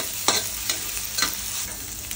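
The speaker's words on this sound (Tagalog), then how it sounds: "Follow na natin yung sibuyas. And then, gisa lang po ng gisa." Garlic and onion sautéing in a pan for a Filipino alugbati and string bean dish: a steady sizzle broken by three or four close stirring scrapes, with no voices.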